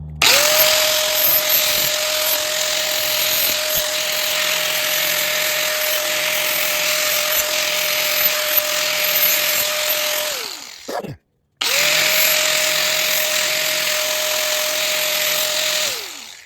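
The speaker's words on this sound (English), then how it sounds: "Just take your grinder and smooth all that out." An angle grinder smooths a jagged, sharp cut edge on a Ryobi chainsaw muffler, a steady high whine for about ten seconds that winds down, a brief silence, then a second long steady run that tapers off.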